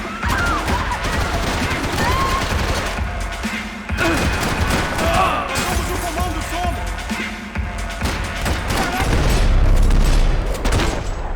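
Gunfire from the Max Payne 3 nightclub kidnapping level comes as scattered bursts of shots with crashes and impacts, heard under someone talking.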